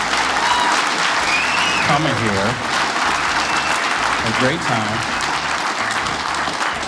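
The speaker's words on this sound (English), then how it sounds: "And give yourselves a round of applause." Audience applause fills the room in a steady, loud wash of clapping at a live comedy show, running under a man's spoken thanks.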